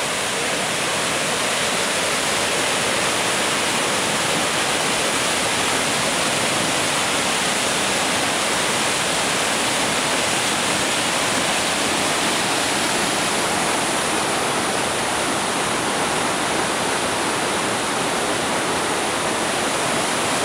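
A flooded, swollen river rushing toward the Río Prieto bridge in Lares, a loud steady roar of churning water that fills the whole stretch without pause.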